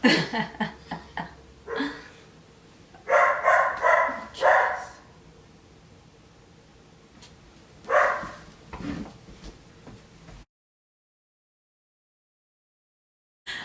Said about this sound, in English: he is barking in this video